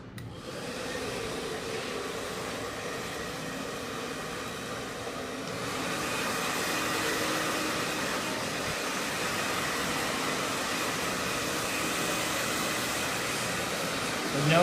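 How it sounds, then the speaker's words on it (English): A handheld hair dryer blasts a short textured pixie haircut, a steady loud whooshing roar that runs unbroken for about fifteen seconds and swells slightly in intensity midway, with no talk over it. "Now we'll blast it with a dryer."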